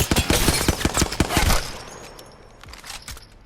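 Rapid single shots from the Hemlock rifle in Apex Legends, a quick rhythmic string of loud, sharp cracks lasting about a second and a half, then a quieter tail with a few faint later reports.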